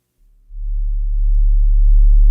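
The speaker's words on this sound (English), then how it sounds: "you can just hear that droning sound. So this is directly out of the phase shifter. That's just the resonance self-oscillating" A synthesizer phase shifter with its resonance self-oscillating produces a steady low sine-like drone that swells in after a brief start and holds, gaining faint upper harmonics.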